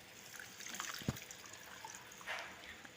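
Water is poured into a pot of sautéed barley for soup, a faint steady trickle with a soft splash partway through.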